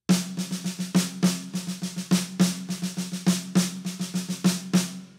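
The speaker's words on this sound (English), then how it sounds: "The traditional way to play a six stroke roll is to play the rhythms as 16th and 32nd notes" Six stroke roll on a snare drum, played in 16th and 32nd notes as a drum fill exercise: crisp repeated strokes in uneven clustered groups with accented hits, close and loud with no talking.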